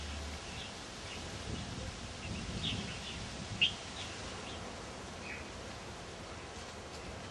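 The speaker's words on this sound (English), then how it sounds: "This bird sanctuary is home to over 300 species of birds." Birds call faintly in open wetland at Mai Po Nature Reserve, a Hong Kong bird sanctuary beside mangroves, with scattered soft chirps over a steady hiss of ambient background.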